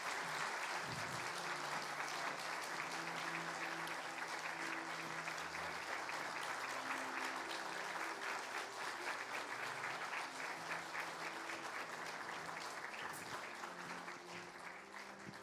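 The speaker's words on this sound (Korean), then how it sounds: "박수 부탁드립니다." A church congregation at a Sunday worship service claps warmly and continuously for about fifteen seconds, the dense applause holding steady and then gently fading toward the end.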